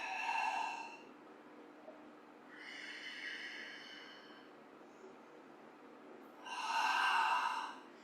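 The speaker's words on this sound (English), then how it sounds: "Breathing." Deep, slow breaths during a yoga practice come in three long airy waves, each a soft hissing inhale or exhale lasting about a second. They are heard close and quiet against a faint room hum, with no talking.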